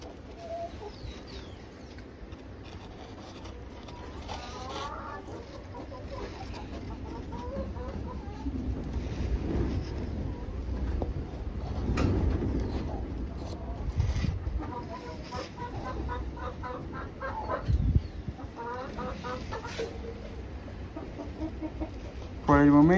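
Egg-laying hens cluck and murmur continuously inside a coop, with occasional louder calls. A person speaks now and then over the flock's steady background chatter.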